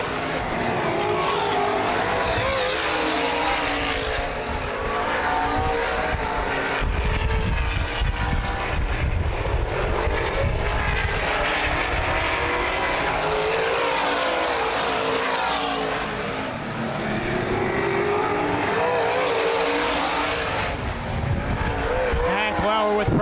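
Sprint cars race around the dirt oval at Baer Field Speedway, a continuous loud roar of engines with rising and falling passes under steady crowd and track noise, while a race announcer talks throughout.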